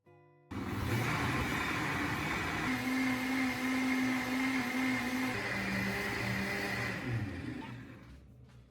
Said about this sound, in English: carefully ladle the hot mixture into the blender jar and begin blending until smooth